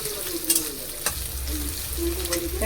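Thin, long-cut potato slices sizzle and frying in a pan for a Bengali home recipe, with a steady hiss and a few clinks of stirring, close and fairly quiet.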